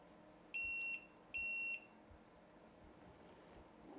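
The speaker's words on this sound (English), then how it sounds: "Here's the startup sequence, because you can hear it. It also beeps at you as well." A Velotric Discover 3 ebike gives two identical bright electronic beeps as it starts up, each about half a second long with a short gap between them, clear over a quiet room.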